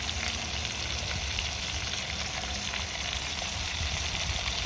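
Sliced red onions and beef cooking in leftover marinade for a Moroccan beef tajine, a dense even sizzle and hiss that holds steady throughout, close by, with no voices.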